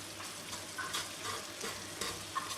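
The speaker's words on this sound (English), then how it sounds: "It's still on a low heat, so that there's no chance of these onions burning." Onions cooking gently in a pan on low heat, making a soft, steady sizzle with occasional stirring scrapes, close and quiet, with no talking.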